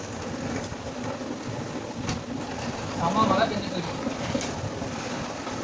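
Heavy rain falling outside a home during a downpour, a steady, dense hiss that fills the whole clip and swells briefly near the middle.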